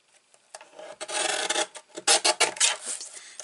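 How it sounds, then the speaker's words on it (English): Black card stock is trimmed to size with a paper trimmer, giving close, scraping rasps in short bursts that grow louder and more rapid toward the end, with no talk. "so we're going to trim this down"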